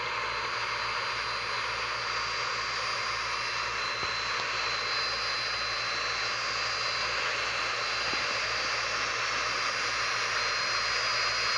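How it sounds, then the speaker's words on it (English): Steady roar of a military fighter jet engine in the Infinite Flight simulator, a continuous broadband whoosh with a high whine, constant and unbroken throughout without speech. "this airplane can get pretty fast because it's a military jet"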